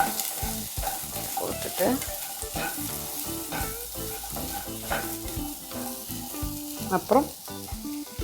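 Roughly chopped onions fry and get stirred in a pan for a restaurant-style paneer butter masala, a steady sizzle broken by scraping stir strokes, with brief talk over it.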